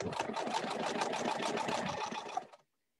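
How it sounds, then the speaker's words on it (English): A sewing machine stitches an appliqué onto a moccasin, running in a steady, rapid close whir for over two seconds before stopping abruptly into silence. "And that's how you sew your applique on."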